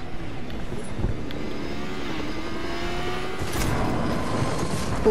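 Motorcycle engine in the Fortnite video game, a steady droning engine hum with a faint rising pitch, continuous and moderately loud against game noise throughout.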